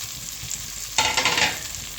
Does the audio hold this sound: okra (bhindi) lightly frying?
yes